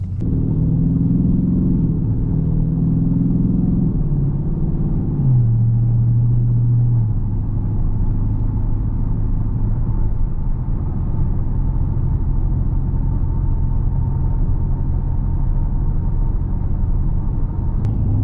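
A 2021 Dodge Charger 392 Scat Pack on a drive gives a deep, continuous engine rumble from inside the car, loud and steady, with a brief rising rev and gear change early on, then an even cruise.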